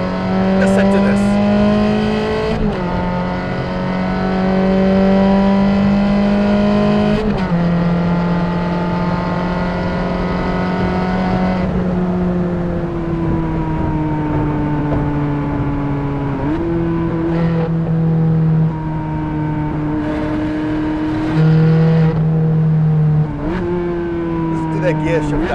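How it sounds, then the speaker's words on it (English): A Ferrari Challenge Stradale V8 revs loudly and steadily, its pitch stepping down through several downshifts, with a strong engine roar throughout and no speech. "no better V8 in the world sounding than this Challenge Stradale."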